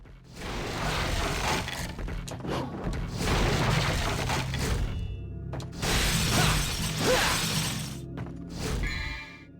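Breakable objects smash and shatter in the action game Devil May Cry 3, with repeated loud crashing bursts over a constant background of game music and effects.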